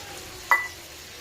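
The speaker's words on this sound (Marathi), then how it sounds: "गवार शिजण्यासाठी मी पाणी टाकते" Water hits a hot pan of cooking cluster beans (guar) with chutney, giving a single sharp sizzling hiss that quickly fades into a quiet simmer.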